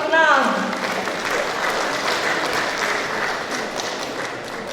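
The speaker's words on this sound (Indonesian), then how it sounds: "tepuk tangan untuk paslon nomor" A crowd at a Pagaralam city mayoral election debate applauds a candidate pair, the clapping strongest at the start and then settling into a sustained, even wash before easing slightly.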